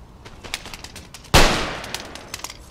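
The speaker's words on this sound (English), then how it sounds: "this unit of theirs is being shot quite heavily" Musket volleys crack through an Empire: Total War battle, scattered shots popping before one loud, close blast at mid-clip whose roar trails away, then more sporadic firing in the distance.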